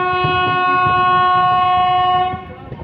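Nandankanan Express running, heard from inside a general coach: a loud sustained train horn blares over the steady rumble and clatter of the moving train, fading slightly at the end.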